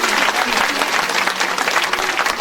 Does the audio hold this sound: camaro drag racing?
no